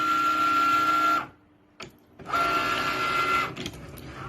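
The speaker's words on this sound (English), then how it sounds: "So the first thing that my Cricut does is it decides to do the draw first." A Cricut cutting machine draws with a marker pen, its motor whirring loudly and steadily, then pausing briefly before resuming the whine and trailing off; close and alone.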